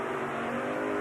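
Monster trucks Kodiak and Taurus launch together off the start line at a Jacksonville, Florida Monster Wars race, engines revving hard in a brief, distant-sounding burst of racing noise.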